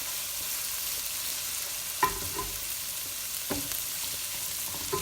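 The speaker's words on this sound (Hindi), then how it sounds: "इन सबको एक साथ भून लें।" Onion and ginger paste fries in a pan with a steady, even sizzle, broken by a few clear scrapes of a spoon stirring against the pan.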